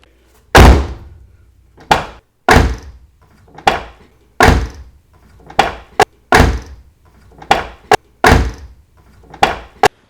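A Mazda Miata door fitted with Delrin door bushings being shut and opened repeatedly, giving a string of sharp, solid thunks and latch clicks at close range with short quiet gaps between them.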